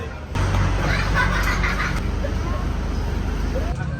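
An airport bus carrying passengers to the plane hums with a steady low engine drone and road rumble, while people chatter and laugh in the background.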